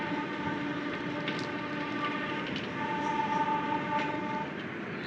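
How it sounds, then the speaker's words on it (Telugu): A goods train at Kothavalasa junction railway station in Andhra Pradesh gives a continuous, fairly faint rumble and hiss heard from some distance, with a faint higher tone running steadily underneath. "కొత్త వలస జంక్షన్ రైల్వే స్టేషన్లో ఒక గూడ్స్ ట్రైన్ ఉంది."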